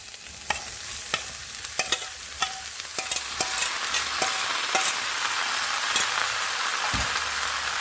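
Mushrooms with curry leaves frying in a pan while being stirred, a loud close sizzle punctuated by repeated sharp spatula taps and scrapes at an uneven rhythm, no one speaking.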